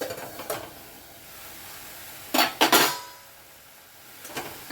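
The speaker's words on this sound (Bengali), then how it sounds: "এবারে ঢাকাটা খুলে দেখি" A lid is lifted off a pot of simmering mango chutney made with jaggery, giving a quick pair of metallic clanks, with a few lighter clinks before and after, against quiet background.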